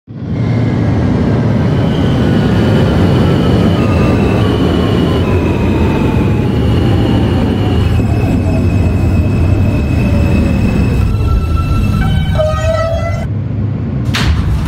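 A simulated R160A Alstom New York subway car on an F local train runs steadily with loud rumbling wheels, a gliding motor whine and rail squeal throughout, ending with brief high-pitched electronic tones.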